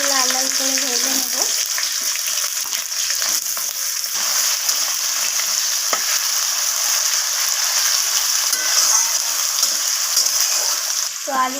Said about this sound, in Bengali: ফোড়নের সাথে আলুগুলোকে একটু লাল লাল করে ভেজে নেব